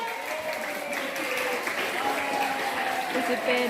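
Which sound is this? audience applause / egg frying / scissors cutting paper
audience applause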